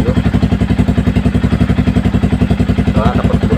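An older Yamaha Vixion motorcycle being checked for its thermostat runs close by, its engine throbbing in a fast, even rhythm with blips of revving, loud and mechanical.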